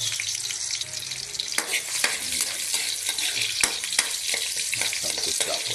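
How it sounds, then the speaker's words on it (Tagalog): Garlic and onion sauté in a hot pan for pinakbet, a steady close sizzle with occasional stirring scrapes throughout, no talking. "Magsamputsa po tayo ng bawang at saka sibuyas"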